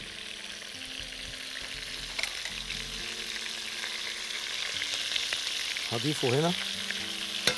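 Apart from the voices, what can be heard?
chicken and onion frying in a pan, stirred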